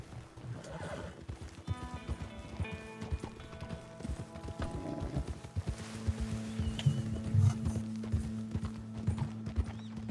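Horse in a Red Dead Redemption 2 street scene, with hoof clip-clop mixed among whinnies and neighs over steady game music and ambient noise, fairly close and continuous.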